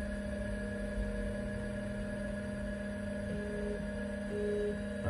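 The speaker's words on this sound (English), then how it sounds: "Here's the unique sound of a Twiggy drive." A 1983 Apple Lisa Twiggy floppy drive runs with its variable-speed motor, making a faint, steady electronic whine and hum whose pitch steps up and down briefly near the end.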